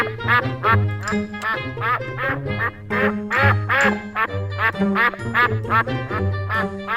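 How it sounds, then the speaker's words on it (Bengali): Ducks caged together in a Bengali cartoon quack loudly and repeatedly, the nasal calls overlapping in a busy, continuous chorus with no talking. "আরে, এখানে তো অনেকগুলো তাজা তাজা হাঁস আছে।"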